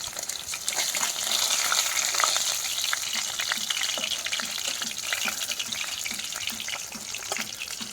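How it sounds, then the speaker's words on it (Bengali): Snakehead (shol) fish frying in mustard oil in a wok over a clay stove, a loud, dense, steady crackling sizzle that holds throughout with no talking. "কড়াতে সরষের তেল দিয়ে মাছগুলো ভেজে নেব।"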